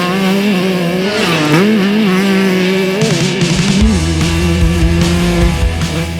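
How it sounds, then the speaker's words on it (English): A 2024 Yamaha YZ125 two-stroke motocross bike revs close by on a sandy track, its engine buzzing loud and raspy as the pitch climbs and drops, then settles into a rougher, lower drone. "This is the 2024 Yamaha YZ125 two-stroke"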